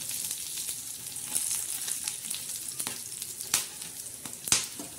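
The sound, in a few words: whole spices (khada masala) roasting in a pan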